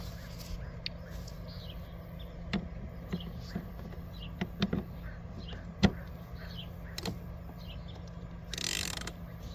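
The blade nut of a Kobalt electric lawn mower is tightened with a hand tool, giving sharp, close ratchet clicks and metallic ticks scattered irregularly over a steady low hum.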